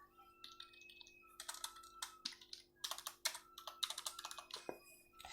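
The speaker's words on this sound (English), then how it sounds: "and this is how the key sounds." Keys clacking on a Dell KM117 wireless keyboard, irregular bursts of close, crisp plastic taps, some quick runs and some single presses, over a quiet background with no talking.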